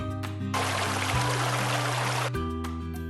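Water rushes along an irrigation ditch in a brief burst of about two seconds, heard over steady background music.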